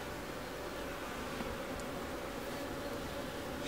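Honeybees hum in a steady, dense drone at an open hive during a brood check before the honey flow, close and continuous with no talk.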